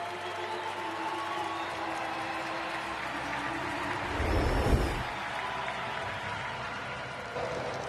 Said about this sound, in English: Nice round of applause for the Braves lefty